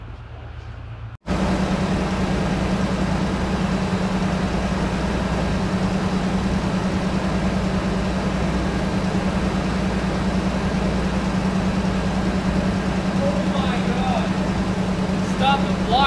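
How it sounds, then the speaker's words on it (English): A 1993 Toyota pickup with a suspected head gasket leak starts after a brief silence, then settles into a steady, loud, continuous idle that runs to the end. "But it is time to go start the engine now."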